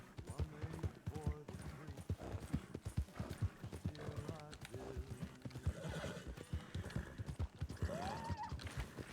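Horse hooves clip-clop in a ranch roleplay video game, a quick, close, regular clatter of steps that runs throughout, with a neigh rising near the end. Voices and game sounds are mixed under it.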